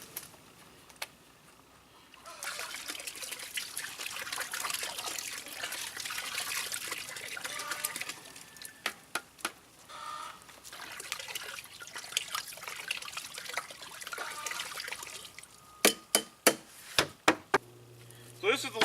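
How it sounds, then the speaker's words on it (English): Apple cider vinegar, about a quart, poured into a turkey brine: a steady liquid trickle and splash running for several seconds, then a few sharp knocks and clinks near the end, with no talk. "quart of apple cider vinegar"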